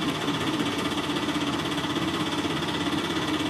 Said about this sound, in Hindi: किसी टेम्पू के इंजन की तेज आवाज सुनाई पड़ती है